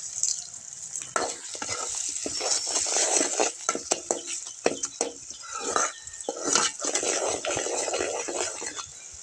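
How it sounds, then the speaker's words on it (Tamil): Finely chopped big onions with a little salt sauté in a pan, a continuous bright sizzle broken by repeated scraping and stirring clatter of a utensil against the metal, close and steady throughout. "பல்லாரி வெங்காயத்தை நைஸாக வெட்டி இப்படி வதக்குறோம்"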